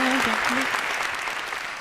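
Audience applause at a Hindi kavi sammelan poetry recital, a dense crowd clapping loudly and evenly throughout, briefly overlapping a voice at the start.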